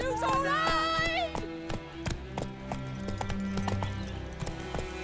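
A horse in The Witcher 3: Wild Hunt trots and gallops with steady rhythmic hoof clops, opening with a neigh and a voice calling out over it.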